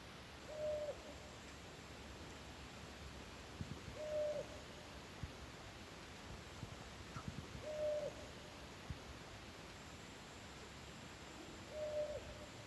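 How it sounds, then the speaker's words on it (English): An owl hoots softly four times at steady, widely spaced intervals, distant and faint over a constant hiss of a dark forest campsite at night. "There's a couple owls that have been around this area."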